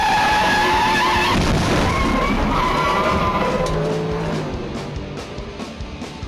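A TA2 race car spins out at turn 1 of Watkins Glen, engine roaring with skidding tires, then the noise fades into a quieter rumble as it slows.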